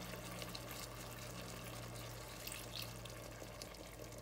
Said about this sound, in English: So the water that I use for boiling a pasta, I'm gonna add this into a little bit